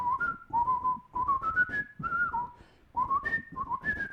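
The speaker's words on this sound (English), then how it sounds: "You can't just whistle things like" A person whistles a tune up close: a clear, bright melody in short phrases with brief pauses between them, and no other sound.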